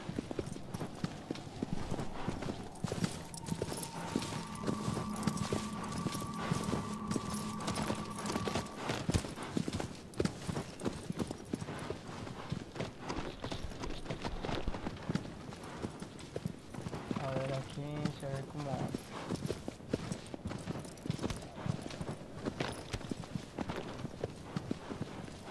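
Horse hooves clip-clop in a steady rapid trot in Shadow of the Colossus, continuous and close, with wind-like ambience, brief tonal game sounds and a whinny partway through.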